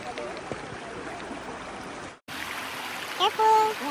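A mountain stream at the start of a hiking trail gives a steady rushing wash of water, cut off briefly by a gap, with voices and calls over the flow toward the end.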